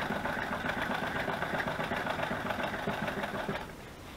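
Sewing machine running steadily while stitching a seam on a craft project, a continuous mid-pitched motor whir with fast repetitive needle ticking that stays loud for most of the clip, then drops slightly near the end.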